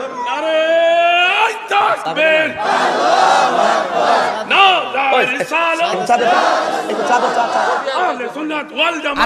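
Crowd at a religious waz sermon in Bangladesh chanting slogans in unison, loud and close, a dense wall of voices rising and falling in melodic rhythm for the whole stretch.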